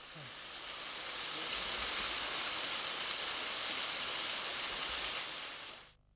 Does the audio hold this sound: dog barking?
no